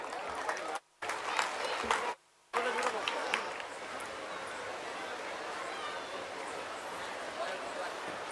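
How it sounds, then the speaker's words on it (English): An audience at a school annual day celebration claps to welcome guests, a dense, sustained round of applause from a crowd in a hall, briefly cut out twice early on, then continuing steadily. "Please welcome with a huge round of applause."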